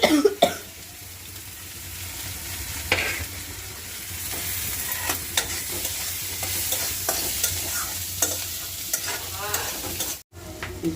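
Onions frying in oil in a pan, a steady sizzle with repeated scraping stirs and occasional clatter, plus a cough near the start.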